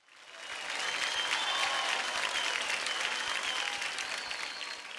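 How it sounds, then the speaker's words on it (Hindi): An audience at an Indian Idol 12 singing show breaks into sustained, dense applause that swells quickly and holds steady, with a faint murmur of crowd beneath the clapping. "जोरदार तालियां हो जाए"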